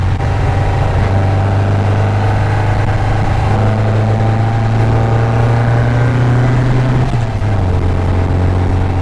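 A 1974 VW Super Beetle with a 2054cc stroker engine drones loudly and steadily down the highway, its engine note holding constant before dipping slightly near the end, with road and wind rumble filling the cabin.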